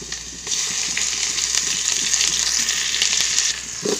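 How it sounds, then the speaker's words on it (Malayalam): Ginger and garlic frying in coconut oil in a pan while a chicken roast is prepared, giving a steady, close hiss of sizzling that swells after the first half second and holds with small crackles and stirring scrapes. "അതിലേക്ക് ഇഞ്ചിയും വെളുത്തുള്ളിയും ഇട്ട് കൊടുക്കാം."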